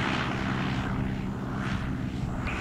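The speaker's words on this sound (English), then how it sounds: "They're doing a nice low flybys right here" A buzzing propeller engine drones steadily nearby, swelling and fading slightly as a small radio-controlled model airplane makes a low flyby overhead.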